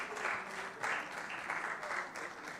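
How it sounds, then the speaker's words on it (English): A conference audience applauds the conference secretary, a dense wash of many hands clapping in waves that swell and ease over a couple of seconds. "Please welcome him with a round of applause."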